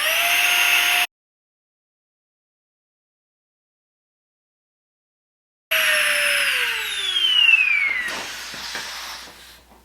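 GIGA Pump 3.0 portable air pump running loud and close while inflating an air mattress through a small needle valve attachment, a steady whining hiss that cuts out for several seconds, then restarts with a falling pitch and some rattling handling noise.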